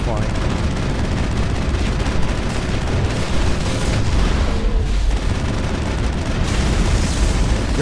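Continuous gunfire from the Mass Effect video game, a dense, steady barrage of shots and booms filling the whole stretch, with someone talking over it.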